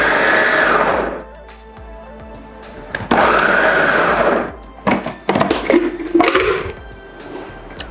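A fufu machine whirs loudly as it mixes plantain and cassava, running in strong bursts with a pause between them, then a lumpier, thumping churn as the dough folds over.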